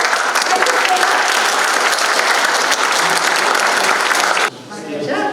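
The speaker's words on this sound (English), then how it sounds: "Can we have a round of applause, please?" Conference audience bursts into loud, sustained applause after a talk, a thick wall of clapping that cuts off abruptly near the end, leaving quieter room sound with some voices.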